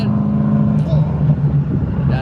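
LS1-swapped Nissan S13 drifting at Queensland Raceway, its V8 drone steady and fairly distant beneath nearby crowd chatter and children's voices.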